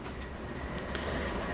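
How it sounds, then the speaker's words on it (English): A freight train in the Transport Fever 2 game rumbles in, giving a steady low rolling rail noise with a faint rhythmic clatter. It stays at a constant moderate level throughout, with no voices. "And the train has arrived and starting to work"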